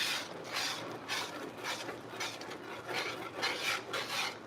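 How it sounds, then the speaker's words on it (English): A whisk scrapes steadily through brown gravy in a pan on low heat, making a close, rhythmic rasping swish with roughly two strokes per second. "Continue to whisk on low."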